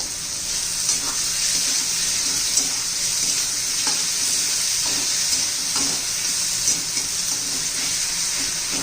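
Onion and tomato sautéing in a pan for rajma masala, a steady close sizzle with occasional soft clicks of a spoon stirring through it, no voices.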